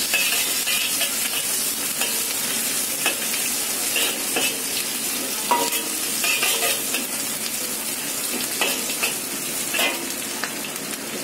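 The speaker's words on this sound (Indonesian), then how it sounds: "Kita tumis bawang merah, bawang putih, tumis jadi satu" Shallots and garlic stir-fry together in a pan, bright continuous sizzling punctuated by repeated spatula scrapes and light metal taps at an uneven rhythm, close up with no speech.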